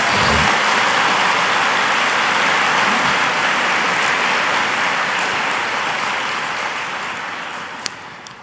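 A large audience claps at a Vatican media conference, dense sustained applause from a crowd filling the space, loud and steady before slowly fading, with no talk.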